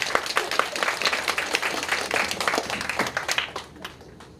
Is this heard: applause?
yes